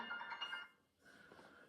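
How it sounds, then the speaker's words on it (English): A mobile phone rings indoors with a close electronic ringtone, two short bursts of tone separated by a brief gap, fairly faint and with no talking over it. "that's my phone."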